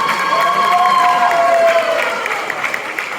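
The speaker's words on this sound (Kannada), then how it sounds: "ಜೋರ ಚಪ್ಪಾಳೆ ಹೊಡೀರಿ" An audience at a Yugadi festival comedy-and-song show applauds loudly and steadily for about three seconds, with crowd cheering and a high whistle-like tone mixed in before the clapping thins out.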